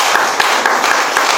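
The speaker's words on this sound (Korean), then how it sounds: "우리 먼저 하나님께 영광의 박수 드릴까요?" Congregation at a church founding thanksgiving service applauds, a loud, dense wash of many hands clapping steadily through the whole moment with no voices over it.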